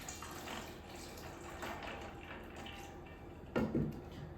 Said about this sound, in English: We're gonna add water to it.